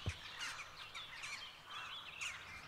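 Birds chirp and call faintly in an outdoor scene of the game Kingdom Come: Deliverance, a few scattered calls over a quiet ambient bed with no talking.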